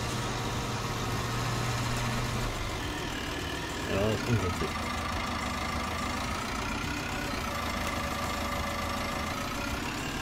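A tractor engine runs at idle on a farm during silo compacting, a steady, moderately loud mechanical drone throughout, with someone speaking briefly over it.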